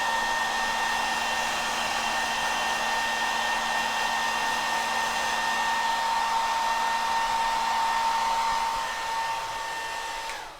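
A hair dryer drying paint on an Armodax painting runs at a steady, loud whine with a constant pitched hum for about ten seconds before easing slightly at the end.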